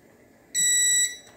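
A multimeter in continuity mode gives one clear, steady electronic beep of about half a second while probing the LED backlight of a Philco PH40U16DSG LCD TV, with a faint second chirp after it.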